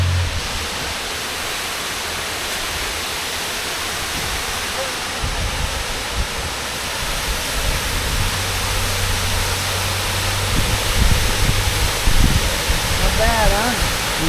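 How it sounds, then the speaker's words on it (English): A waterfall in the gorge at Watkins Glen, in the Finger Lakes, roars as a steady, dense wash of falling water close by. A few low thumps and faint bits of talk come through near the end. "This is the first waterfall as we're leaving Watkins Glen on the Finger Lakes Overnighter."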